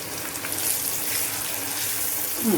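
Garlic and asafoetida frying in oil for a bitter gourd pickle, a dense, steady sizzle close by with a faint clink near the end and no voices.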